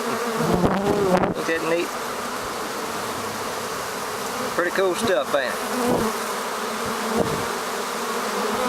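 A swarm of unfamiliar bees fills the air with a dense, steady drone, loud and close throughout, while someone talks casually over the buzzing.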